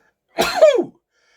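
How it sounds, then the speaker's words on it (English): One sneeze from a man, a single short burst lasting about half a second, close and fairly loud, with no talking around it. "I just sneezed a couple of times there."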